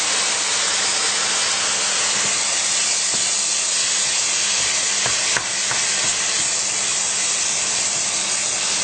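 Lamb mince frying in a hot pan gives off a steady, dense sizzle and hiss throughout, with a few faint stirring scrapes and taps midway.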